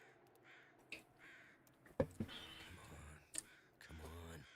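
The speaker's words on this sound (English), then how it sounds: "The crows, man." Crows cawing in the video game The Long Dark, a few harsh caws scattered among clicks, fairly faint, with a voice talking at times.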